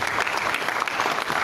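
Audience clapping steadily at a youth leaders' summit in Southern Kaduna, a dense continuous patter of many hands at moderate loudness.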